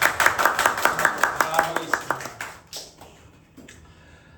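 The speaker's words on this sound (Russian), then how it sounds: "Немножко неудобно будет, если я один буду хлопать. 다 같이 서로를 위해서 Давайте" A small church youth congregation claps together briefly, a quick run of sharp, fairly even handclaps that thins out and fades after a couple of seconds, with a voice speaking over the end.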